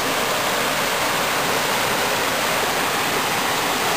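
Chapman Creek pours into a pool in a steady, broadband rush of flowing water, loud and continuous like a small waterfall, with no voices.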